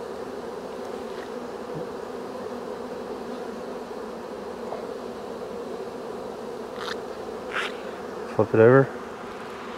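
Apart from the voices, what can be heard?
honey bees buzzing around hive frames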